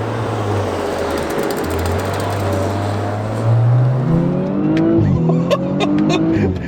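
Tuned Audi RS5 by ABT with 530 hp powering hard out of a corner, its engine note climbing steadily in pitch over tire noise, loud and close, with a brief shift before rising again.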